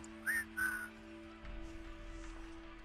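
Two short rising whistles into a computer microphone within the video game Wasteland 3, the first about two notes, the second longer, over steady electronic hum and a low ambient rumble that swells afterward.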